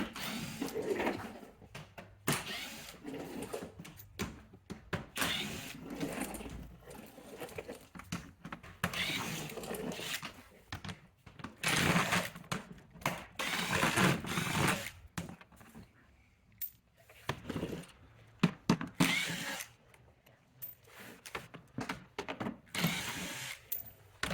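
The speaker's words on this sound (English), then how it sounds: "we're going to remove the size 7mm screws that are holding this part of the bumper to the underskirt there" Someone removes 7mm screws holding the bumper of a 2011–2023 Chrysler 300 to its underskirt, with repeated short bursts of a tool's clicking and whirring separated by brief pauses, fairly quiet and close.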